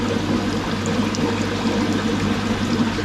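Dirty water gushes steadily from the opened bottom waste valve of a Nexus 220 koi pond filter, a constant close pouring rush with a low hum underneath.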